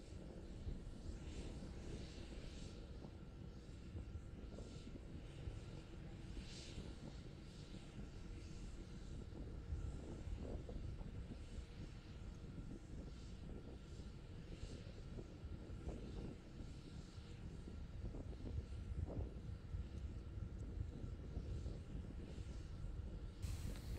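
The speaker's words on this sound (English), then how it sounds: "continuing to climb on power of two engines" SpaceX Starship SN11 climbs through fog on two engines, a continuous distant rumbling roar with broad low-end power that holds steady throughout, slightly buffeted by wind, with no voices present.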